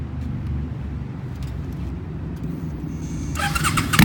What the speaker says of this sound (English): it's got some really badass sounding Cobra pipes